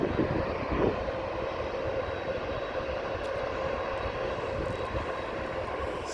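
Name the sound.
cargo airplane taking off at Amsterdam airport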